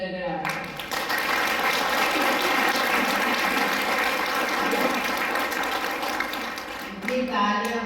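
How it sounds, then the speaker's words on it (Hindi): An audience claps at a Trimurti Shiv Jayanti celebration held by the Brahma Kumaris in Fatehabad: dense, loud, sustained applause lasting several seconds before thinning out. "तालियों की गड़गड़ाहट करें।"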